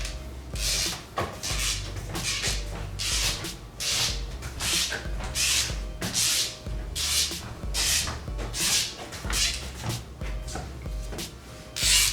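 A soldering tip being burnished by rubbing it with a dollar bill and a little spit, heard as a steady series of rhythmic scrubbing strokes, close and fairly loud, with no talking.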